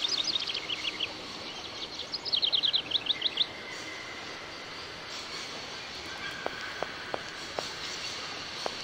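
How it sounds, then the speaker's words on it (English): Small birds in the video game Syberia chirp in quick bursts of high tweets near the start, then fall quiet, leaving a soft ambient hum broken by faint clicks. "Way to go, little birdies!"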